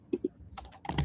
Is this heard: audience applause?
no